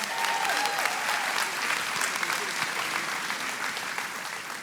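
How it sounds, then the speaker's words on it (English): An audience at a Dancing with the Stars show claps in a dense, sustained round of applause that stays loud and steady throughout with no pause. "let's give them a big round of applause"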